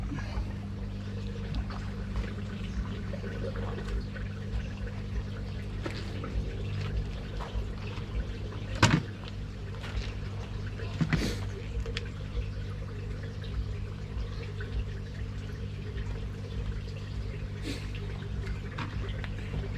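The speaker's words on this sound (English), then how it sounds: "the water's pretty dirty in that one, so drain that off." Dirty water drains out of a koi pond filter as a steady, close pouring and trickling flow, with a few sharp knocks partway through.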